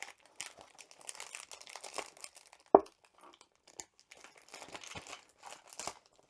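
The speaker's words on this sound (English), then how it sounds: "It is stapled, so I'm just going to tear it." A stapled paper package for a diamond art key chain kit is torn open by hand: soft crinkling and rustling of paper throughout, with one sharp rip partway through and scattered smaller tears, close up and without talk.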